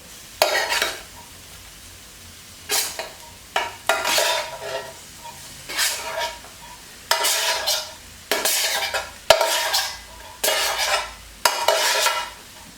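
Rice with egg and fried spices being stirred in a hot pan for pineapple fried rice, repeated bursts of spatula scraping and sizzling in an irregular rhythm, close and moderately loud.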